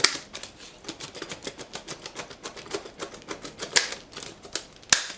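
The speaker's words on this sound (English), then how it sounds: "You just cut through these type of packaging without worrying about cutting your fingers." Offset-jaw snips snap through plastic packaging in a quick run of sharp, close clicks and crunches, irregular in rhythm, with louder cuts near the end and no voices.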